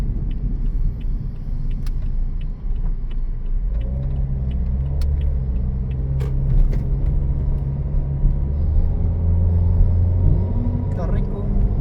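A car climbs a steep road in Baguio with a continuous low engine rumble and road noise that deepens as the grade steepens, a few light rattles over it and people talking inside the car.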